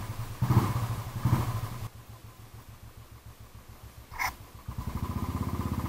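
Motorcycle engine idling and pulsing steadily at close range in the early morning with a group of riders, its throb rising slightly and firming up near the end.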